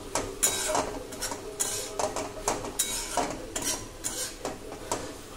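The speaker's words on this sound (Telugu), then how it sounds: "ఇప్పుడు దీన్ని మంచిగా కలర్ వచ్చేంత వరకు అయితే ఫ్రై చేసుకుందాం." Mutton with masala and green chillies being stir-fried in a pan, giving a steady run of spatula scrapes and clinks against the metal roughly every half second, close and moderately loud, with no voices.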